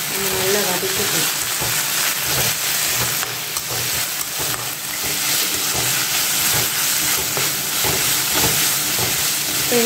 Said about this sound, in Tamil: இப்போ நான் இஞ்சி பூண்டு போட்டு நல்லா கொஞ்சம் சிம்மில் வச்சு நம்ம நல்லா வதக்கிக்கணும்